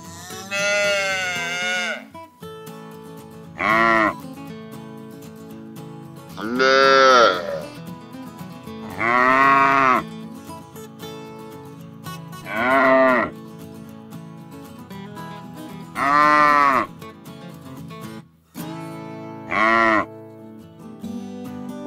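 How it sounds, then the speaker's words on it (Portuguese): A young calf on a farm moos loudly, about seven separate drawn-out calls spaced a few seconds apart with short quiet gaps between them. "Bezerro ou novilho são termos utilizados para descrever o boi que se encontra na idade de 1 a 6 meses."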